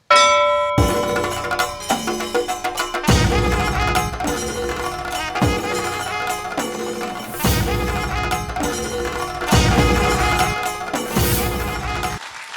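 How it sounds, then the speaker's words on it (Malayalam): A bell rung repeatedly to open a bell-ringing event, with loud, ringing strikes recurring every couple of seconds and long sustained tones decaying between them; no voices. "ഒരിക്കൽ കൂടി ആ മണി ഒന്നും കൂടി മുഴകിക്കൊണ്ട് നമുക്ക് ഇന്നത്തെ"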